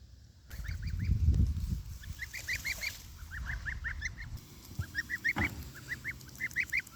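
Homestead geese honk in quick repeated bursts, a run of short nasal calls at moderate distance, with a low rumbling thump early on and a brief bump partway through.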